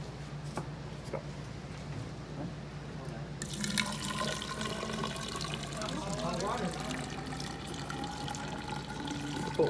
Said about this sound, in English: So I'm gonna put some water in here